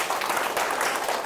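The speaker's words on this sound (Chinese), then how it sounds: "所以给你们自己掌声鼓励" A crowd of choir and dance participants erupts in warm, continuous applause, loud and full with no pauses across the brief stretch.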